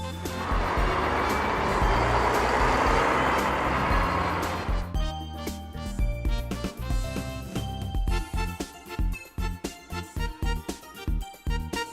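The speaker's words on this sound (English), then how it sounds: "double-decker bus" A double-decker bus engine rumbles steadily and loudly up close for several seconds, then gives way to a rhythmic, pulsing mechanical pattern with repeated beats, with no talking over it.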